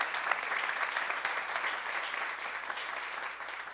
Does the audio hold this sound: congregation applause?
yes